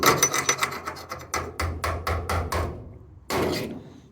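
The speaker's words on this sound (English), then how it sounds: "clean my slag off in between the two" Welding slag on stick-welded steel hat channel for a skoolie roof raise being chipped and brushed off, a series of sharp metallic raps followed by harsh scraping strokes, close and loud, ending in one last rasping burst.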